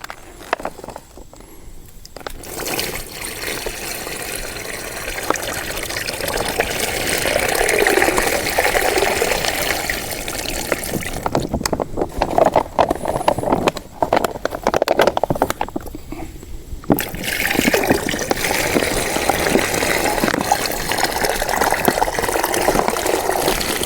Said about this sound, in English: we're just going to pour the dirty water into the reservoir.